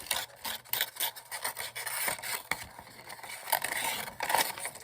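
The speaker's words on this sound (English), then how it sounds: "Sometimes it's easier to just use a piece of sandpaper." Sandpaper rubbed by hand over a craft piece, a steady run of dry rasping strokes close up, with no talking.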